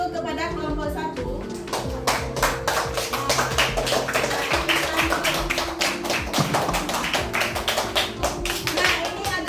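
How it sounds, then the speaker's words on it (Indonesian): A middle school classroom applauds a student group with many quick claps in a brisk, fairly regular rhythm, loud and close, while voices carry on underneath. "Beri tepuk tangan dulu kepada kelompok 1."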